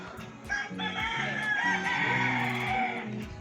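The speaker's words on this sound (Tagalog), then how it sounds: "Ang ingay ng mga manok." Several roosters crow over one another amid continuous clucking from a flock of chickens, fairly close and busy, near a construction site.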